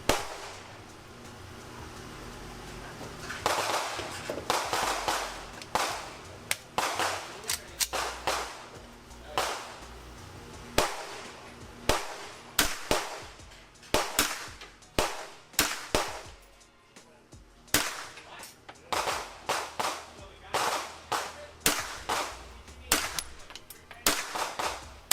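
Gunshots from a Bear Creek Arsenal BC9 16-inch rifle come as a long string of sharp, loud cracks in quick, uneven bursts, with short pauses between groups.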